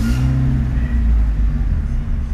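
Fiat Uno engine turning over and settling into a low, steady idle rumble, loud and close, with no talking.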